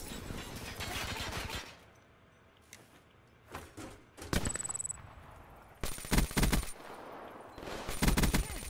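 Bursts of automatic gunfire in the video game PUBG, rapid rattling volleys separated by short gaps of quieter rustle, close and loud.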